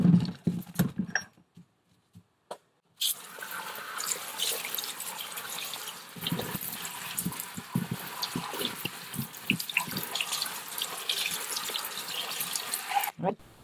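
Freshly picked chili peppers get washed under a running tap. After a few quiet knocks and handling sounds, a steady close splash of water streams over them, with light rustling and bursts of sloshing.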